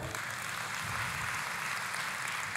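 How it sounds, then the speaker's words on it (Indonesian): A church congregation applauds together, a steady, dense wash of many hands clapping at even loudness throughout, fairly distant and without a break. "Boleh kita kasih tepuk tangan?"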